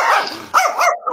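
A dog gives sharp close barks mixed with a low growl, in short bursts with a brief pause between them.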